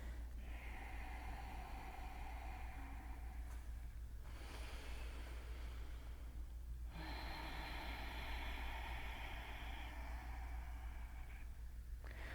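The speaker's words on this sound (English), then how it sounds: "Begin your Ujjayi breathing." Slow, deep Ujjayi breaths drawn in and out through the nose during a yoga class, each a long hissing, ocean-like rush lasting a few seconds with brief pauses between, soft and close.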